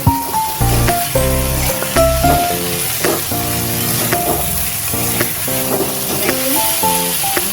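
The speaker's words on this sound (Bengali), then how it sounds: "মশলাটা বেশ সুন্দর ভাজা ভাজা করে নিয়েছি, এবার আমি জল দিয়ে দেবো।" Spice paste for a dumur (fig) curry fries in a pan with a loud, close sizzle and stirring scrapes, while a melodic musical line plays steadily over the frying throughout.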